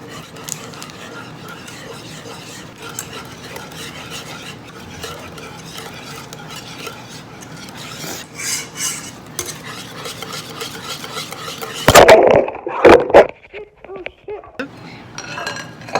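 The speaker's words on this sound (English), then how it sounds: "add 12 tablespoons of butter, one at a time, fully incorporating them before we add another one into the curd" A utensil stirs butter, added one piece at a time, into lemon curd in a pan, giving soft scraping and a few sharp clinks near the end, with a faint voice in the background.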